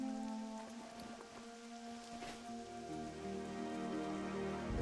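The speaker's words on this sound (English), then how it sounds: "It's raining." Steady rainfall in the video game World of Warcraft patters softly and evenly, a quiet continuous wash under faint sustained musical tones, with no talking.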